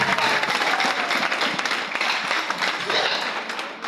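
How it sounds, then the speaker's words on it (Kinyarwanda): A church congregation claps for Jesus in steady, dense applause throughout, loud at first and tapering slightly toward the end, with faint voices mixed in. "Ariko tumukomere amashyi Yesu"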